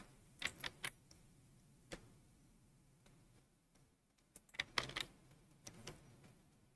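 Keystrokes on a computer keyboard, typing a search into an app store, come as faint, scattered clicks in short bursts with pauses between, heard alone in a quiet room.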